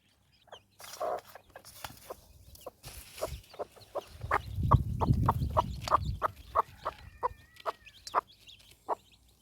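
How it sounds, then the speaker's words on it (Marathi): A hen with chicks clucks in a steady series of short, close calls, with soft rustling and scratching around her between clucks. "कोंबडी पिल्ले घेऊन बाहेर खुरड्यामध्ये"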